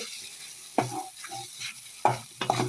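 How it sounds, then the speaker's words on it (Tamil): Eggs fry with meal maker soy chunks in a pan, with a few sharp scraping stirs and soft sizzling between them, close by and moderately loud with no talking. "இந்த பாருங்கள், முட்டைலாம் நல்லா வெந்துடுச்சு."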